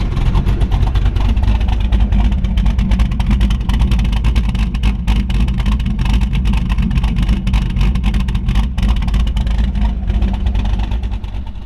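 A 1929 Ford Model A pickup street rod engine idles steadily up close, a loud continuous low rumble with rough mechanical chatter that holds constant throughout.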